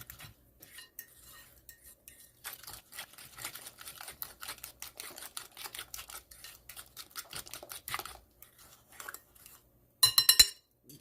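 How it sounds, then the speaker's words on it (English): A spoon clinks and scrapes against a bowl while bread pudding ingredients are stirred together, a steady run of light clattering taps that grows busier midway and ends with a brief louder burst of knocks near the end. "Get all that mixed up."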